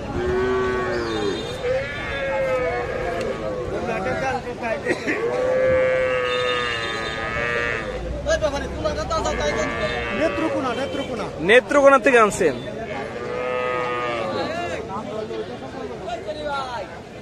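Calves and bulls at the Joymontop cattle market in Singair, Manikganj, moo repeatedly in long, drawn-out, loud calls close by, over a background of crowd chatter and nearby conversation.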